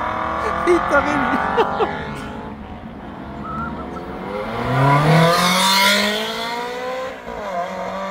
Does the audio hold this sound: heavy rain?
no